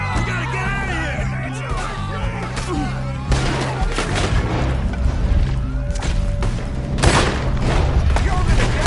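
Gunfire rings out during a shootout in the video game Red Dead Redemption 2, a string of booming shots and thuds over music and ambient noise, with characters yelling and talking throughout.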